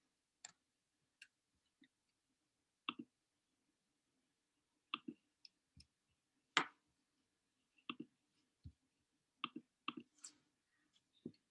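A computer mouse double-clicks during online math practice, giving quiet, sparse, sharp clicks, some in quick pairs, spread across a near-silent background with no talk.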